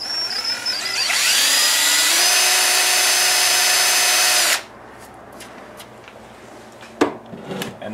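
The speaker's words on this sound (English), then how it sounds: "So I'll go ahead and drill the holes." A power drill spins up and whines loudly and steadily for a few seconds, drilling holes for a front speaker bracket in a 2007-13 Chevrolet Silverado 2500HD, then cuts off, followed by quieter clicks and a sharp knock.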